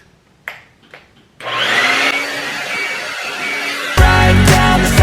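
A hair dryer blowing out freshly relaxed hair starts up after a few soft taps and runs as a steady, loud, close whoosh, joined near the end by a louder motor-like drone.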